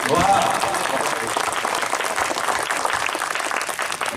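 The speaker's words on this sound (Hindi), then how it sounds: "एक बार सम्मिलित तालियां बजा दीजिए।" An audience at a Hindi satirical poetry gathering breaks into a dense, continuous wash of applause, loud and close throughout, with a voice briefly audible near the start.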